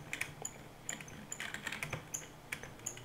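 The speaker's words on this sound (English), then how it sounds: "you can probably hear my keyboard squeaking as well" Computer keyboard typing with keys that squeak, heard during a Minecraft survival play session; a quiet, steady run of close clicks and taps with small squeaky ticks, no voices over it.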